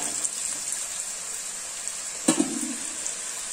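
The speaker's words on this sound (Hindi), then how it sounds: "पानी देकर इसे अच्छा तरह से मसाला को फ्राई कर लेना है।" Masala spices frying in a pan with a little water for a yam curry, a soft continuous sizzle with one brief clatter partway through.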